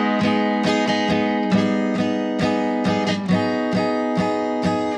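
A guitar strums a steady run of chords from the bridge of a song in an even rhythm, bright and full, each strum ringing into the next without pause.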